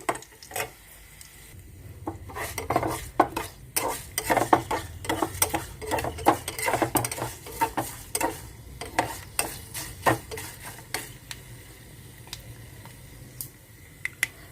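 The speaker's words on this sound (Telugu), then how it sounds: "పోపులు వేగినాయండి ఎండుమిర్చి కూడా వేసాను" Spices and dried red chillies tempering in hot oil for a seekaya pickle, with a steady low sizzle under repeated sharp clinks of a spoon stirring against the pan, close and fairly loud.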